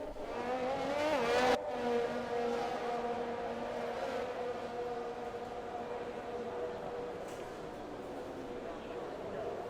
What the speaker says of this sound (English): So the first couple of cars there really pulling away a bit too much from the other cars